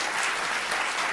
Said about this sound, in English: Can we do applause and I'll just go from the applause and go into it?